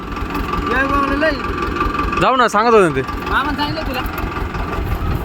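A tractor engine idles steadily in the background while people talk nearby, with a brief rising whine partway through.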